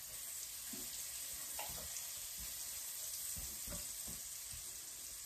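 Shallots frying in a warm electric-stove pan, a steady soft sizzle with faint stirring and scraping clicks, no talking.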